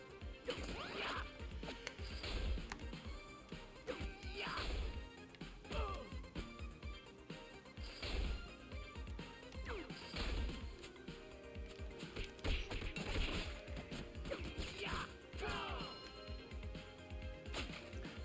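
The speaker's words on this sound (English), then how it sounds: "Smashing pots, smashing pots." Pots being smashed in the video game TMNT: Shredder's Revenge, a busy run of repeated sharp cracks, whacks and swishes over game music, many hits in quick irregular succession.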